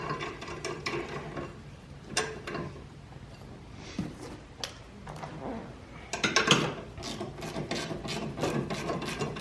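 A wrench turns and tightens a nut on a John Deere Z335 mower deck, giving faint intermittent ratcheting clicks and metallic scrapes in uneven bursts.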